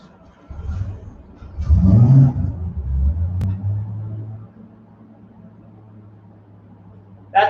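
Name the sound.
Ameri-Barra 4200 engine running on a dyno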